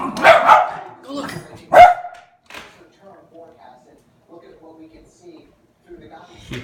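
A Yorkshire terrier barks indoors during a snowstorm with a few sharp, loud yaps close by in the first two seconds, followed by quieter low vocal sounds and murmuring talk.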